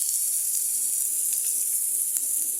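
Taro frying with onion, garlic and green chili gives a steady high sizzle in a hot pan, constant and close with a few faint pops and no talking.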